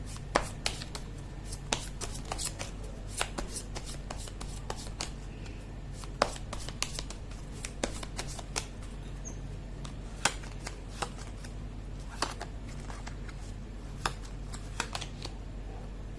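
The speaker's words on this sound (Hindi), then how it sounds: "मैं कर लेती हूँ कार्ड की शफलिंग।" Tarot cards being shuffled by hand close up, a long sequence of sharp riffling snaps and soft slides in irregular bursts over quiet room hum.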